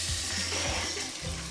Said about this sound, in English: Just gonna rinse it.